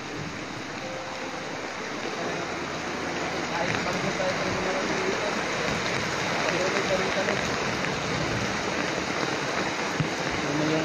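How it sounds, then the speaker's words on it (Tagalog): Very heavy rain pours down in a steady, dense hiss that builds slightly louder, close and continuous, with no voices. "Kahit sobrang lakas yung ulan."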